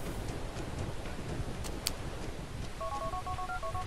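Phone keypad tones in the video game GTA IV, a short run of electronic dialing beeps near the end over steady background noise and wind-like hiss.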